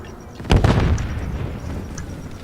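A planted bomb detonates in a tactical shooter video game, a sudden loud blast followed by a rumbling roar that slowly decays over a couple of seconds.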